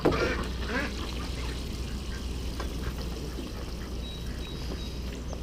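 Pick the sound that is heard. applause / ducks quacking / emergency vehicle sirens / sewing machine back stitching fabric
ducks quacking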